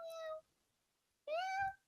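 A cat gives two clear, drawn-out meows separated by a short pause, close and distinct, with no voices over them.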